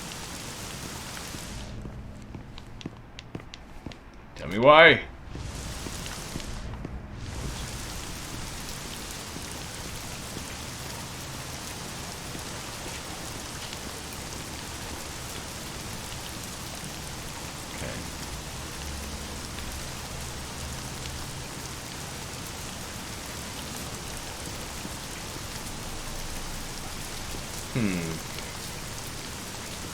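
Steady rain pours down in the horror game The Medium, a constant soft hiss with a brief voice cutting through early on.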